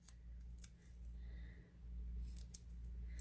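Scissors snip through 3D adhesive foam dimensionals in a paper-craft stamping session, giving a few faint, brief sharp snips over a low room hum.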